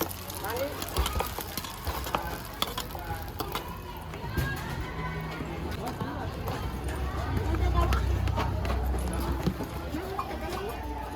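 Seasoning gets stirred and mixed into food with quick scraping, clattering strokes, backed by a faint sizzle, while people keep talking over it.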